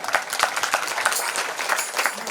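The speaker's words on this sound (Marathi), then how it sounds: "हे सर्व जे काही टाळकरी आहेत सर्वांसाठी जोरदार टाळ्या" Applause for the taal cymbal players at a Marathi kirtan: a crowd claps steadily, dense and fairly close, with sharper individual claps standing out at an even rhythm.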